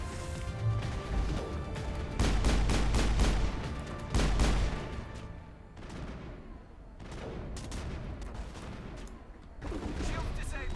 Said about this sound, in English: Great, we're taking rocket fire from somewhere.